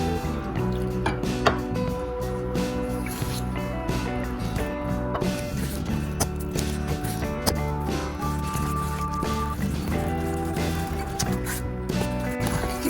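Flour batter for boondi laddu is stirred by hand with water in a bowl, wet squishing and slapping in a steady rhythm over background music.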